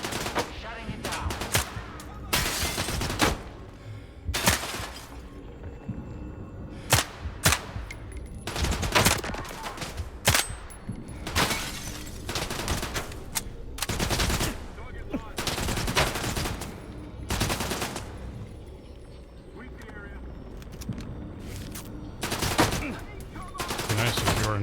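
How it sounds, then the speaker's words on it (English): Repeated bursts of gunfire in a swampy video game level, some single cracks and some rapid volleys, loud and close, aimed at the player over roughly twenty-five seconds. "Be nice if you weren't shooting me through the cover"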